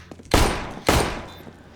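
Two loud gunshots ring out in a first-person shooter video game replay, each a sharp blast trailing into a short echoing decay, about half a second apart, with no talking.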